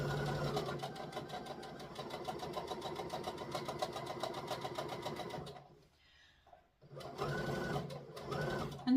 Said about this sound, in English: A couple of stitches, a couple of back stitches just to help secure it